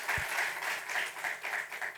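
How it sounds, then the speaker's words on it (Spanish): Brief, faint audience applause at a panel discussion on the EU and defence, soft rhythmic clapping heard from a distance for a couple of seconds. "please join me with a big round of applause in welcoming our distinguished panelists, Herman and Rob."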